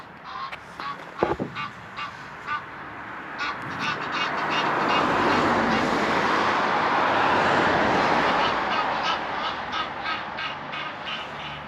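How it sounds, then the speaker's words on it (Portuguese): Many ducks on a river calling over steady outdoor noise, with harsh honking and cawing calls scattered throughout, fairly loud and close. "Aqui muitos patos na água no rio."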